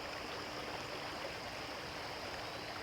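A high, fast-flowing creek rushes steadily, a dense continuous wash of running water with no voices over it.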